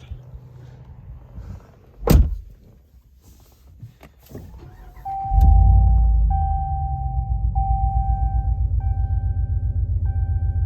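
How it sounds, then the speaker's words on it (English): A car with heavily tinted windows: a thud and a rattle come first, then the engine starts with a loud rumble and settles into a steady idle hum while a warning chime repeats at regular intervals. No one speaks. "So let's go around for a drive."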